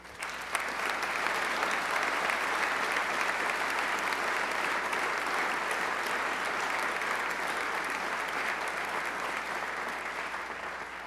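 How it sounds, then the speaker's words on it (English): Sustained, dense applause from a large audience in a legislative chamber during a state of the state address, steady and loud throughout with no speech. "everyone here in this body deserves a round of applause"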